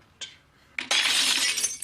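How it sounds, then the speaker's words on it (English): A glass vase knocked off a table: a small clink, then a loud sharp shatter with a bright spray of breaking glass that rings on briefly, heard alone. "I knocked the vase that was on this table over."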